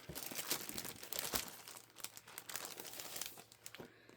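Crinkly clearance craft papers handled up close, loud rustling and crackling in uneven bursts with sharp crinkles throughout.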